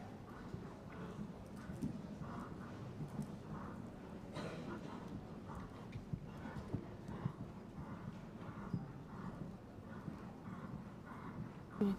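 A horse circles a vaulting arena at an international team championship, its hoofbeats a steady, muffled rhythmic thudding on soft footing amid a broad, continuous arena hum.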